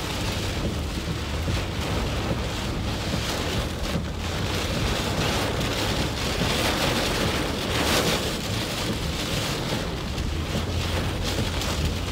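Heavy, blinding rain pours down during a tornado-warned thunderstorm near Fort Smith, Arkansas, a dense, steady roar of rain hammering a vehicle without pause, with a low rumble underneath.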